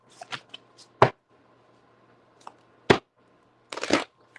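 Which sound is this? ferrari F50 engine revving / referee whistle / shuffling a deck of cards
shuffling a deck of cards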